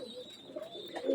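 Young KTM and Oman-line pigeon chicks coo softly at close range, with low warbling notes swelling toward the end over a faint steady hiss.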